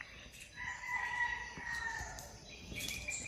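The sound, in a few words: rooster crowing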